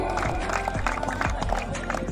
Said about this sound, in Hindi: जोरदार स्वागत तालियों के साथ।